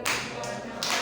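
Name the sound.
applause in church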